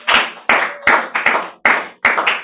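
A church congregation bursts into repeated rounds of applause acclaiming the king of kings, loud close clapping in several surges with brief gaps between them, no voices.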